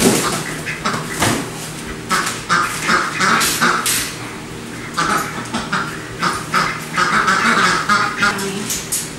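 Ducks quack and squawk repeatedly in a farm enclosure, loud and close with overlapping bursts throughout, mixed with other bird calls and some background noise.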